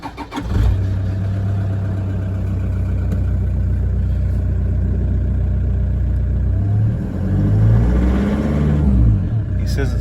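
A car engine cranks and fires, then settles into a steady loud idle through a big, loud exhaust system, with a brief rise in revs near the end; close and prominent throughout.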